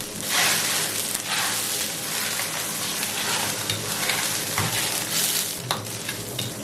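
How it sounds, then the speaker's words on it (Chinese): Lettuce leaves blanching in a pot of boiling water seasoned with salt and a little oil, giving a steady, close bubbling hiss that holds evenly throughout with small surges. "下入生菜，烫至10秒钟。"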